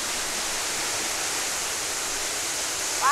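A steady, dense rush of falling water fills the clip evenly, loud and continuous with no voices.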